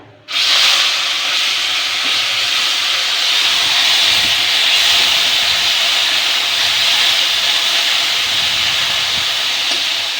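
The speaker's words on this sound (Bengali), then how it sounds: "এবার আমি এতে দেব পেঁয়াজ বাটা" Onion paste hits oil spiced with bay leaf, cardamom and crushed cinnamon for a double-yolk egg curry, setting off a sudden loud sizzle that holds steady and hissing for the rest of the clip, with no talking.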